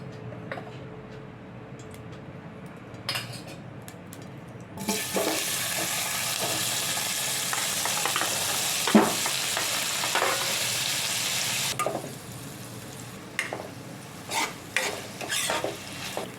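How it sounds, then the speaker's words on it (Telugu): Paneer cubes frying in a little oil for a dhaba-style kaju paneer curry, a steady hissing sizzle that swells loudly for several seconds, broken by occasional scrapes and clinks of a utensil. "కొద్దిగా ఆయిల్ వేసుకొని పన్నీర్ క్యూబ్స్ని వేయించుకోవాలి"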